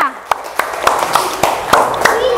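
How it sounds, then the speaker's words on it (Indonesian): A classroom group claps in a quick, uneven burst of sharp hand slaps for a couple of seconds, close and fairly loud, mixed with voices talking and chattering underneath. "Tepuk tangannya, betul semua"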